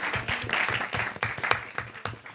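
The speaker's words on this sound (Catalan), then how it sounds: "Força aplaudiments." An audience at a live Catalan talk show applauds, producing crisp, distinct hand claps in a lively, uneven rhythm close by, with a faint murmur beneath.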